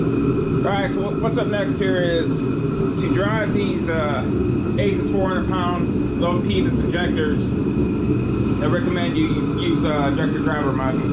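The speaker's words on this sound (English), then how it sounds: "you have to excuse the noise of the heater. It's pretty chilly out here." A space heater runs in a chilly garage during injector wiring work, giving a steady, even hum that continues beneath someone talking throughout.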